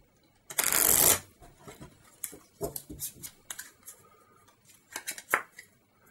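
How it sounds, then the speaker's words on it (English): A deck of Field of Glory game cards is shuffled close by: one loud riffling burst, then a series of lighter flicks, taps and shuffles as the cards are handled. "so we'll give this a good shuffle."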